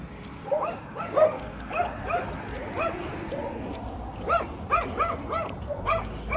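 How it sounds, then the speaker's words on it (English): A dog barks behind a fence in a California neighborhood, sharp repeated barks and yips in irregular bursts close by, over steady outdoor background noise. "I'm walking by a fence where a dog's barking."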